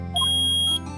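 A short electronic beep sounds in the Phoenix Wright: Ace Attorney video game, a steady high tone lasting about half a second over low background game music.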